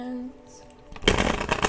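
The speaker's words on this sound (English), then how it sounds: "Just kind of trying to shuffle the decks here." Cards are riffled and shuffled close up in a dense burst of crisp flapping, following a brief quiet hum at the start.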